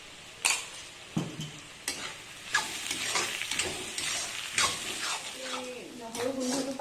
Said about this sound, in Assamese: এতিয়া ইয়াতে মই আদা নহৰু পিচি থোৱা আদা নহৰু এচামুচ দি থৈছোঁ।